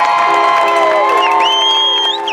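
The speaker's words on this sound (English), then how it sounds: "how about applause to you guys, that rough crowd that took it that night" A large crowd at a high school football state championship rally cheers and whoops with shrill, high voices layered over clapping, loud and close throughout.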